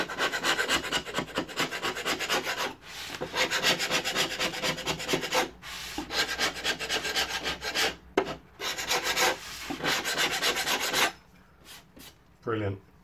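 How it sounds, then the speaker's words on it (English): A sharp painter's scraper rasps steadily across filler on a wall, a continuous close scraping with brief pauses between strokes, with no talk. "trying to flatten off some of this filler that's on the wall here should not be a problem"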